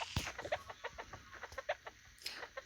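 Hens cluck near and fairly quietly in a farmyard after laying an egg, giving a quick run of short, clipped clucks in an irregular rhythm.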